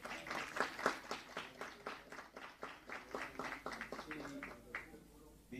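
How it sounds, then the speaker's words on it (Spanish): An audience applauds at an artificial intelligence book presentation: a steady patter of many hands clapping at moderate volume for several seconds, with voices murmuring underneath before it thins out at the end. "un aplauso muy merecido"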